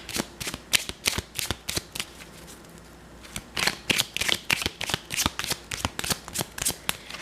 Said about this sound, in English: then we shuffle the deck.